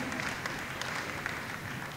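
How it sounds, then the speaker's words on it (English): An audience claps after a music performance by a university music institute at a gala dinner, a fairly quiet, even patter of many hands sustained throughout, slightly distant in a large room. "Once again, a big round of applause for UCSI's very own Institute of Music."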